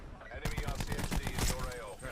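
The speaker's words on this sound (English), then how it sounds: "make sure you take cover from those darn sentry guns" Automated sentry guns in Black Ops 4 multiplayer fire rapid bursts of gunshots, loud and close, repeating in a fast rattling rhythm for about two seconds.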